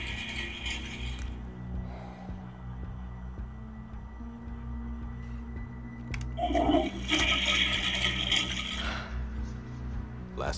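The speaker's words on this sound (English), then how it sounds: "Last flush, dude." A toilet flushes with a mechanical clunk, then a swelling rush of water that runs for several seconds before tapering off, heard close in an indoor room.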